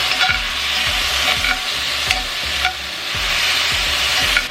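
Onions and minced garlic fry in a pan with a loud, steady sizzle, while a spoon stirs and scrapes in a repeating rhythm, close and continuous with no talking.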